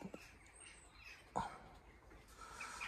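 Pigeons in a breeding loft give a few faint, scattered calls over a quiet background, with one sharper call standing out midway.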